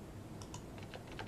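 Computer keyboard keys are pressed in quick, light clicks, about eight faint taps over a second and a half, alone against a low background hiss.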